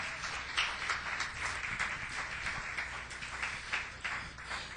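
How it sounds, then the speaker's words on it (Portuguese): A church congregation claps for Jesus with quick, overlapping applause that stays steady and fairly faint throughout, with no clear speech on top. "Palmas para Jesus."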